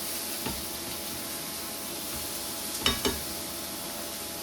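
Burgers fry in a pan with a quiet, steady sizzle and hiss, broken by a couple of brief scraping clatters near the end.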